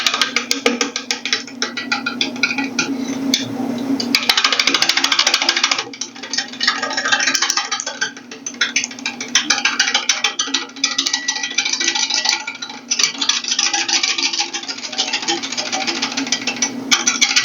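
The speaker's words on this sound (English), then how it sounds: "let's go ahead and kick on the lathe and see if we can make some progress" A wood lathe turns a bowl blank while the tool bites in with a loud, rough, rapid chattering, continuous and close, with no voices.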